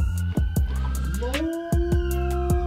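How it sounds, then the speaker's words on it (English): Wailing sirens sound over steady background noise while a dog whines, with rising tones joining near the middle and a series of sharp knocks throughout. "This is our dog whine at the sirens."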